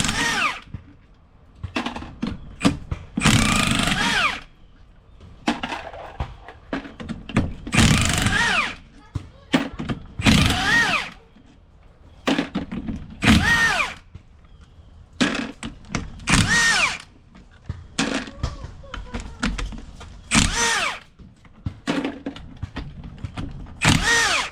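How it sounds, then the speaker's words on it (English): A 1/2 inch impact wrench hammers loose 17mm bolts on a welded differential from a Chrysler 300 drift car, firing in repeated loud bursts of rattling impacts separated by short pauses. "I'm gonna use a 1/2 inch impact, and it's left hand to reverse them out."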